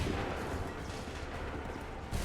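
A musket volley fired by a line of soldiers in Assassin's Creed III, a loud dense burst of overlapping gunfire rolling into a rumbling, smoky blast with no clear gaps.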